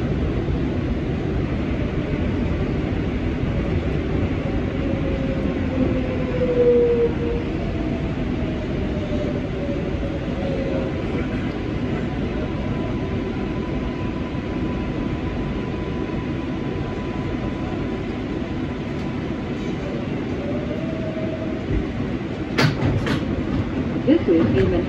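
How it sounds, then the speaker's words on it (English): R188 subway train running on the 7 Express line of the IRT Flushing Line in Queens: a continuous loud rumble of wheels and car body with faint clickety-clack, a few brief squeals and a rattle near the end, steady throughout. "This is a Manhattan-bound 7 Express train."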